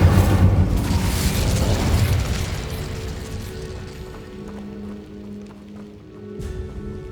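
Incendio fire spell cast in the Hogwarts Legacy video game: a loud whooshing fiery burst that roars then fades into a lingering low rumble and faint crackle.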